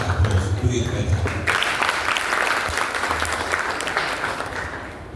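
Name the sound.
applause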